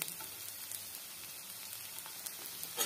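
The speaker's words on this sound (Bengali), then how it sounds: "এর মধ্যে দিয়ে দিচ্ছি কুচিয়ে রাখা বিনসের টুকরো" Chopped green beans frying with lightly fried onion in a pan, a steady soft sizzle and crackle running evenly throughout with no talk.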